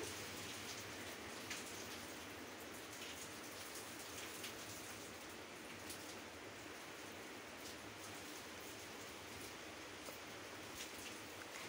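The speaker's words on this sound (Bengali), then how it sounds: "বৃষ্টি অনর্গল পড়ে যাচ্ছে, বৃষ্টি বন্ধ নেই" Heavy cyclone rain pours steadily during Cyclone Remal, a dense, even hiss of drops hitting surfaces heard at a distance with no let-up and no voices.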